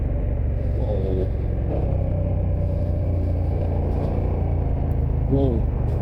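Steady engine rumble of a KTM 1290 motorcycle on a scenic Corsica road, with cars passing close by in a continuous low drone, and a rider's voice briefly heard over it.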